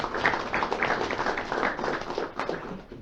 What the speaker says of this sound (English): So actually big applaud for them.